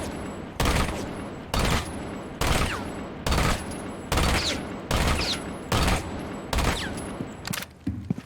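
Ela's Scorpion machine pistol fired in Rainbow Six Siege without pulling down for recoil, heard as seven loud full-auto bursts of roughly half a second each, separated by brief pauses, with no talking.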